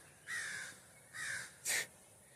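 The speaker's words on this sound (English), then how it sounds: "Thanks, Crow." Three loud, clear caws from a crow ring out one after another, the third sharper and shorter, each standing alone against faint outdoor background hiss.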